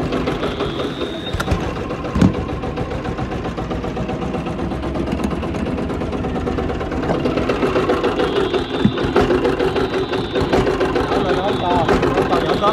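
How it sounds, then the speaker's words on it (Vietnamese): A Yanmar A-10 mini tractor engine runs nearby with a rapid, steady mechanical chatter and occasional clanks, while people talk over it. "Trời, máy nổ rồi."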